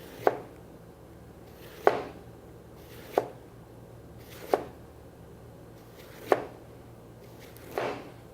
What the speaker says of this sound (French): avec le couteau de chef, on va aller couper des rondelles